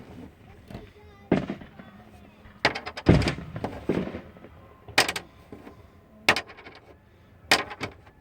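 Fireworks exploding at the Wayne County Fairgrounds: a series of booming bursts and crackling volleys, some single and some in quick clusters, loud and irregular across several seconds with soft background murmur between them.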